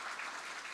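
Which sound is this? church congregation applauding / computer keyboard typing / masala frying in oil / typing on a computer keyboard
church congregation applauding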